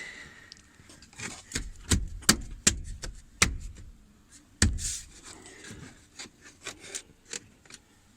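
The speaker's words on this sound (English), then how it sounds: "then work the plastic and the rubber around it." Plastic and rubber trim on a 2017 RAM 1500 truck bed being worked into place by hand, a run of sharp snapping clicks and scraping rubs in irregular bursts, close up and moderately loud.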